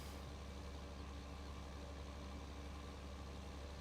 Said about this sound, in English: you can see this tractor definitely does struggle a little bit going up the hill here.